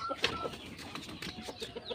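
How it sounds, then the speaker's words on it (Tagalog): Pet chickens clucking while waiting to be fed, a cluster of short calls close by, mixed with soft outdoor bustle. "yung mga alagang manok ay naghintay na po sa kanilang pagkain"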